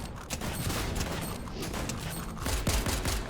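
Dense gunfire in a video game shootout with an infantry rifle and six-shooter, a steady loud barrage of shots and booms filling the whole clip, heavier near the end.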